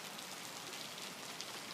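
Steady rain falling on a surface, a dense even hiss with faint scattered drops, moderately quiet and continuous.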